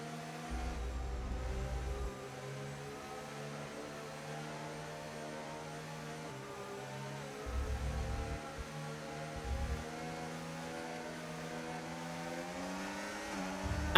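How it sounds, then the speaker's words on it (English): Alpine race car engine in a racing video game on a Spain circuit, a steady droning tone that swells and surges in low-end bursts as the car accelerates, with no one talking. "I'll let the Alpine engine do the talking"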